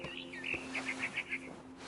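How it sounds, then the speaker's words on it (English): A barn swallow in the video game What Remains of Edith Finch gives a quick run of five or six bright chirps at an even pace, fairly clear over a soft background hum, with no talking. "Then I heard chirping outside my window. It was a barn swallow going back to her nest."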